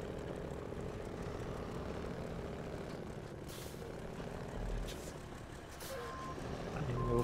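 A Kenworth 963 truck engine in the video game SnowRunner drones with a steady low rumble while the truck turns with difficulty, swelling slightly near the end, with brief hissing bursts over the hum.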